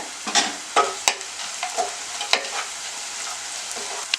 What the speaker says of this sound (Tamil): நல்லா கலக்கி விடுங்க. நல்லா வந்து இது கோல்டன் ப்ரௌன் ஆகட்டும் வெங்காயம்.